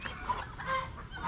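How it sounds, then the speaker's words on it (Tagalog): Young chicks being raised on a farm peep and chirp faintly, with a soft, continuous flock clamour that stays low in the background. "Ito po yung ating mga sisiw na pinapalaki."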